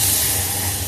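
A smoking tadka of hot oil and asafoetida hits buttermilk for boondi raita, making a loud, steady hiss that sizzles continuously through a short burst, close to the pan and alone.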